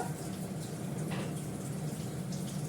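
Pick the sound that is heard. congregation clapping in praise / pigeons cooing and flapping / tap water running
tap water running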